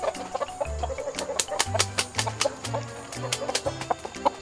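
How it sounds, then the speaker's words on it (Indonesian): Bangkok fighting chickens kept on a village farm in Rambang Kapak Tengah, with soft repeated clucks and a few short calls spread over a few seconds, near and moderately loud. "memelihara ayam bangkok"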